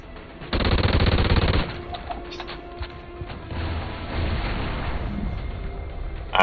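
Rapid assault rifle gunfire in the Warhawk video game, a dense loud burst of automatic shots followed by ongoing battle noise and scattered mechanical clatter.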